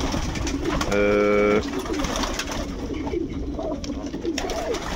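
Domestic pigeons cooing in a loft, several soft calls under steady background noise with one brief tonal whistle burst early on; no talking.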